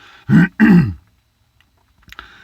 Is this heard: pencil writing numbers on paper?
no